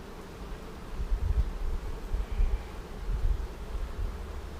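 Honey bees in a comb honey hive make a steady, close, low buzzing hum that swells and fades slightly throughout, with no voices.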